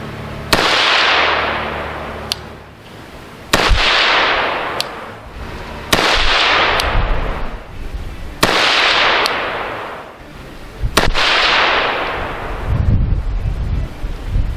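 Five sharp supersonic gunshots from a Shaolin Rifleworks 300 BLK carbine firing Remington 120 grain open tip flat base ammunition, each a loud crack with a ringing decay, spaced a few seconds apart outdoors with some wind.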